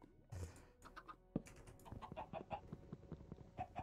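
Chickens in Minecraft cluck in short, quiet, irregular bursts, several overlapping calls in quick succession with faint clicking sounds in the background.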